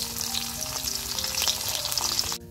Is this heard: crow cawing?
no